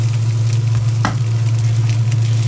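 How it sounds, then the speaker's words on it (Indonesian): Vermicelli noodles stir-fried with vegetables in a pan give a steady, loud sizzle with one brief scrape of stirring, no voices. "Saya aduk sampai rata, sampai tercampur."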